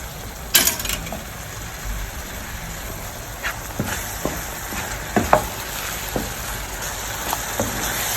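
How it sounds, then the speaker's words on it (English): Pepper cooking in a Ghanaian garden egg stew, a gentle continuous bubbling sizzle with scattered clinks and scrapes of a spoon stirring the pot. "I'll let the pepper cook for about 5 minutes."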